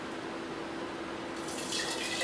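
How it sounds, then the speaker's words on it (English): Watermelon mint slushy being poured into canning jars, a faint steady liquid pour with a brighter, splashier fill near the end and no voices. "Now pour it in your designer canning jars."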